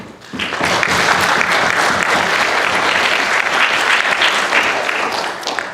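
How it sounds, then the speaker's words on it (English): Sustained applause from an audience at a panel talk on peace in Israel-Palestine fills the room, dense and even from start to finish with no voices over it. "So a round of applause for Dr."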